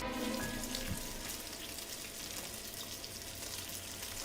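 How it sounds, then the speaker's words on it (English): Continuous sizzling and crackling of meat frying in a pan, close and steady throughout. "I'm frying meat."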